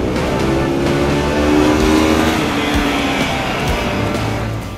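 A Bajaj Pulsar AS 200 motorcycle engine revs loud and close with an angry, punchy tone, holding a steady harsh roar with rising and falling pitch and no talking over it.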